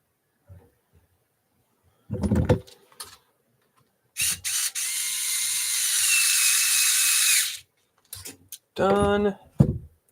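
A ratchet tightening a nylock nut on a shock during a monster truck build, heard as a sustained mechanical clicking run in the middle, close up, with short handling clatters and brief voice bits around it.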